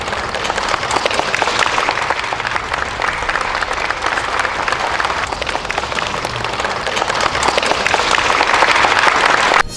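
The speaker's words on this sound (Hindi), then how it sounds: "दोनों के ऐसा करते ही हॉल तालियों की आवाज से गूंज उठा" Sustained applause fills a hall after a toast between Vladimir Putin and Kim Jong Un, with dense, steady clapping from a large crowd lasting throughout.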